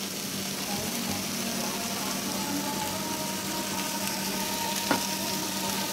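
Carrots and green chilies sizzle steadily in a hot pan, a continuous close frying crackle with a brief louder spatter near the end, no talking.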